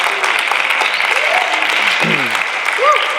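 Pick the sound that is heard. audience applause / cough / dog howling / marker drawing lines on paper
audience applause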